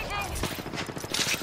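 Rapid gunfire from a firefight in the video game Apex Legends, with dense bursts of overlapping shots rattling in a continuous stream.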